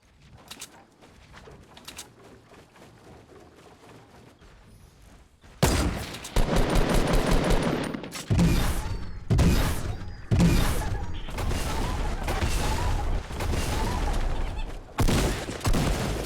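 Gunshots ring out in Fortnite Battle Royale, with faint scattered pops at first, then loud, heavy bursts of rapid fire in several close volleys separated by short gaps.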